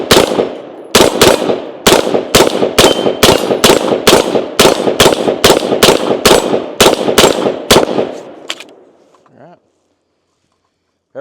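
Rapid bursts of rifle fire from a Sig M400 SDI Series X AR-15, about twenty sharp, loud unsuppressed shots in a fast, fairly even cadence, then quiet with a faint clatter.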